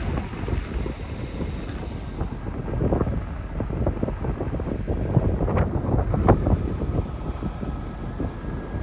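Strong, blustery wind buffets the microphone outdoors near the Matanuska Glacier in Alaska, giving a continuous low roaring rumble with gusty surges and no voices.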